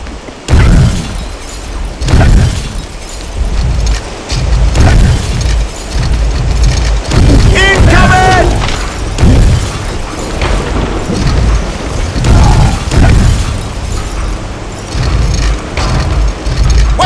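Bombs exploding in the video game The Suffering, a string of heavy booms and bursts across the span, loud and close, with debris clatter and rumbling mechanical noise between blasts.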